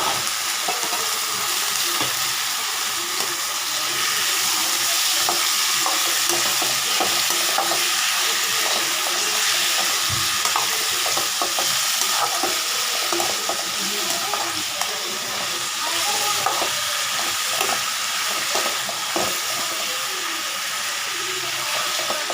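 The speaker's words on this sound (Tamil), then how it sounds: "இதுக்கு மேலே நம்ம தக்காளி போட்டு நல்லா வதக்கணும்" Chopped onions and tomatoes sautéing in a pan, giving a loud, continuous sizzle with frequent scraping stir strokes throughout and no talking.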